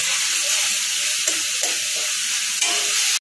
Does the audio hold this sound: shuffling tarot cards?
no